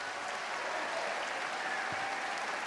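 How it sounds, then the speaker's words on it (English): Audience at a summer jazz concert applauding the band and high school players, a broad wash of steady clapping heard from a distance at moderate level, continuous and even for the whole stretch. "let's just give this band one more big round of applause"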